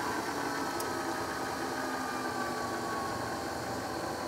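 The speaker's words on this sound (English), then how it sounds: "you can hear and see the motor slowing down" A small DC motor on a variable power supply gives a steady close whirring hum that eases gradually lower as its speed drops, with no voices.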